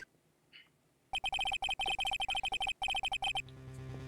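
A telephone rings in the Phoenix Wright Ace Attorney courtroom game. It gives a rapid, bright electronic trill in two bursts separated by a short break, with faint background tones before and after.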